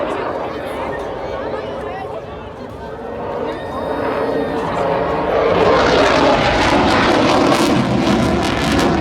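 Aircraft engine at the Southport Airshow 2023, a loud roar that builds from a distant hum to a strong, broad rush of noise as the plane passes, with a voice talking over it.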